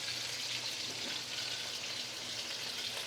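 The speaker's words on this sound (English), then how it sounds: "So let's sear this on high." Lamb chops searing in a pan over high heat, a soft, steady hiss and crackle at low volume, continuous and without talk.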